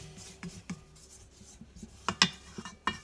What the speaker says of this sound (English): I'm going to stop it here for a second and kind of scrape it down a little bit.